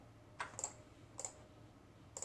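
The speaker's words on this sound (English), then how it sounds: "Having trouble clicking today." Computer mouse clicks while working in CAD software, a few sharp, quiet clicks spaced irregularly, some in quick pairs, with no talking.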